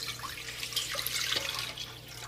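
Water pours steadily into a cooking pot set on a stove, a continuous splashing stream with a low hum underneath, close and moderately loud throughout.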